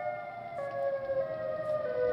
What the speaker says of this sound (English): see, it's that siren again